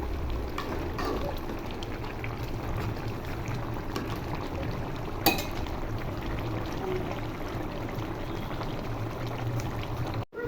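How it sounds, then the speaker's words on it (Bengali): Fish curry of rohu with eggplant bubbling steadily in a pot, a continuous soft boil with low gurgling and a brief clink near the middle. "তরকারিতে বলক চলে এসেছে, নেড়ে ছেড়ে দিই"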